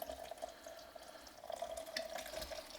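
Chili colorado liquid base pours steadily out of a container in a home kitchen, a continuous close splashing trickle with no talk over it.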